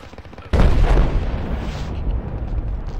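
Mortar rounds exploding in the tactical shooter game Project Reality: a sudden loud, close blast with a deep booming rumble that rolls on and slowly fades over the following seconds.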